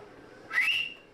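A person whistles with dry lips to signal a group to get quiet: one short, rising whistle note that holds briefly, fairly close, with no talking around it.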